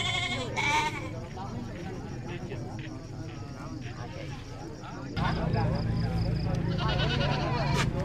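Goats for sale at a busy highland market in northwest Vietnam bleat loudly and repeatedly close by, their wavering cries overlapping with people talking and general market bustle.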